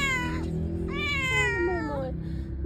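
A street cat meows repeatedly in a pet shop, several drawn-out, rising and falling calls close by over a steady background hum.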